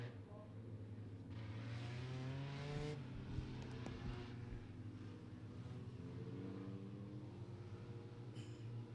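Compact race cars roll out for hot laps at Beckley Motor Speedway, with engines revving and rising in pitch at a distance under a track announcer's voice.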